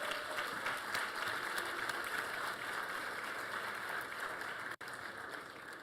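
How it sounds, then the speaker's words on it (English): Banquet audience at an awards dinner clapping steadily, a dense, even wash of applause heard from a distance, faint in level. "how about a round of applause for the fabulous Grandover staff"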